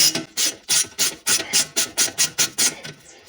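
A cheap $10 ratchet cranks bolts on Alfa Romeo suspension, a loud close series of about a dozen raspy clicking strokes in a steady rhythm, with no talking.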